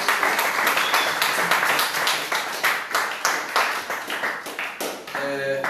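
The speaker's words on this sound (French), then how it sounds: "Acclamons encore plus fort le Seigneur Jésus-Christ." Church congregation applauding and clapping in praise of Jesus Christ, a dense, sustained burst of many hands with steady rhythmic claps, fairly close and loud, fading slightly before a brief tonal swell at the end.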